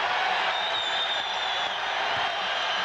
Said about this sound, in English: the crowd is in this game.